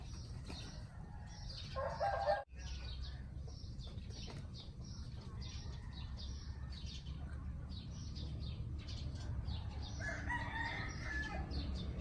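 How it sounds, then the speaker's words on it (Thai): A rooster, a black chicken, crows at a distance, faint but clear over steady outdoor background noise, and a second crow comes later. "เสียงที่ขันนี่เป็นเสียงไก่ดำนะครับ"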